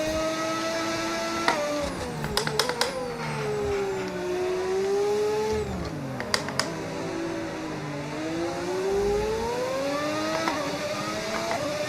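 Race car engine in a racing video game, a loud continuous whine that rises and falls with shifting revs, steady and close, with a few sharp clicks and knocks scattered through.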